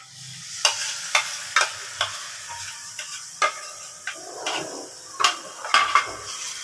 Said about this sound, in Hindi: इस तरह आपने इसमें चम्मच हिलाना है, दरमियानी आंच पे हम इसको अच्छे से फ्राई कर लेंगे।